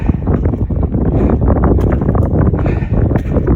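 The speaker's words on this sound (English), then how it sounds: "Really windy, can't hear me probably" Strong wind blows hard against the microphone on the Laugavegur Trail in Iceland, a loud, steady roaring buffet with continuous gusting rumble and no break throughout.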